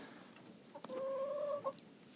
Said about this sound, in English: You're a little rooster, aren't you?